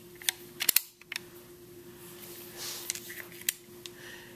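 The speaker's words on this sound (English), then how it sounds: "Left hand, hold the bolt. See if you don't hold that bolt, it falls right down." Bolt of a Crosman 1377 pump air pistol being handled, giving several sharp metallic clicks and clacks in quick bursts, close and fairly quiet over a steady low hum.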